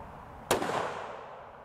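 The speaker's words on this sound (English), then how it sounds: "we adjusted our scope and we're gonna shoot it and see if we can get her lined up right dead center" A single sharp rifle shot from a CVA Cascade XT being sighted in at a range cracks loudly and close, then rolls away in a fading echo.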